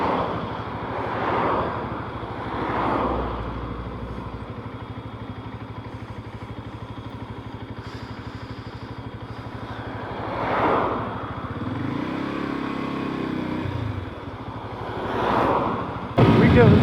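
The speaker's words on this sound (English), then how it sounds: "Oh, I do like riding motorbikes." A Lexmoto electric motorbike ridden on an open road, heard mostly as steady wind buffeting the microphone with a faint motor whine underneath, swelling in gusts as the speed shifts, while a rider talks at times.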